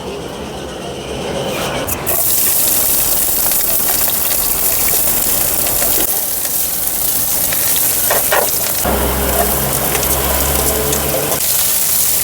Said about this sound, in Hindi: तो अब अपने भी लगाते हैं तड़का